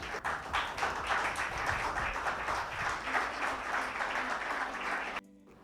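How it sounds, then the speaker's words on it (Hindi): An audience at a Women's Day award ceremony claps steadily for a dance performer, a dense and loud burst of applause that holds evenly for about five seconds and then cuts off abruptly. "जया भारती के लिए एक बार जोरदार तालियां हो जाए।"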